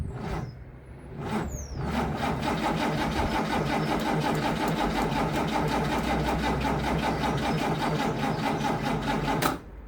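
A 1961 Cadillac De Ville with a 390 engine and a weak battery cranks steadily for several seconds with its choke partly opened, a loud, rhythmic starter churn that stops abruptly without the engine catching.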